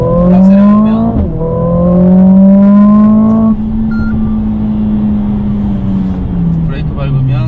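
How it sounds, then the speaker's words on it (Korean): A 2020 Mercedes-AMG CLA45S with a 421-horsepower engine accelerates hard in Sport Plus mode, its loud close growl rising in pitch through a gear change, then settling into a steady drone before climbing again. "스포츠 플러스 모드에서 악셀을 밟으면"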